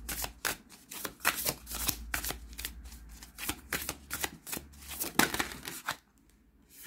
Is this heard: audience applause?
no